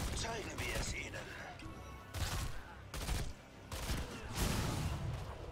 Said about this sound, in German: Kanonenfeuer einstellen!